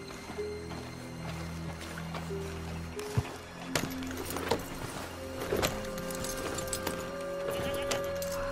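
Horses in the video game Red Dead Redemption 2 give faint, scattered hoof clops and stirrings beneath a soft musical drone, with a few sharper knocks standing out.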